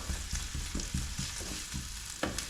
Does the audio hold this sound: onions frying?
yes